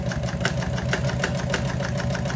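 A sewing machine runs steadily while stitching automotive seat upholstery, giving off a fast, even mechanical pulse up close with no voices.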